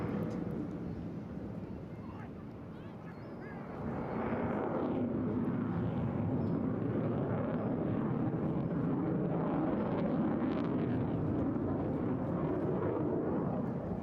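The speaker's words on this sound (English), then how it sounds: "Now you can hear the throttles coming off a little bit, going into a very slow barrel." A steady, roaring jet engine fills the air at a distance during an airshow display at Eastbourne, dipping briefly as the throttles come back for a slow barrel roll before settling into a sustained, slightly softer drone.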